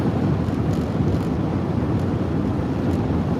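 Strong wind roars against a car driving toward Las Vegas after leaving Wickenburg, a steady, loud broadband buffeting rumble that fills the whole stretch without a break.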